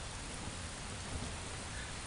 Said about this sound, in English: This rain can't get any heavier